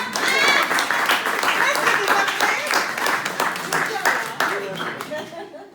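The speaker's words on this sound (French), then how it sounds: "On fait un tonnerre d'applaudissements pour Nathan qui est notre bébé prestataire." A small group applauds at a business meeting, with brisk, lively clapping that stays fairly loud and steady, then stops abruptly at the end.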